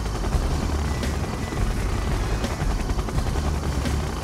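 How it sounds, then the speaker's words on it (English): Siege chopper helicopter in the game Red Alert 2, its rotor beating in a steady, loud, continuous whir that fills the whole span with no voices over it. "Siege chopper, checking in."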